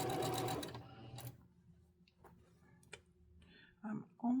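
A sewing machine stitches a quilt seam where pieced blocks are joined, running in a loud, steady whir at first and then dropping to sparse ticks and clicks. Short bursts of talk come near the end.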